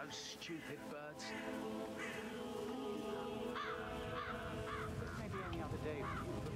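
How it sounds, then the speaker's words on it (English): Crows cawing around a graveyard in the Dartmoor level of the video game Hitman 3, repeated harsh caws over a steady ambient bed with a voice talking alongside. "I'll never get rid of those stupid birds."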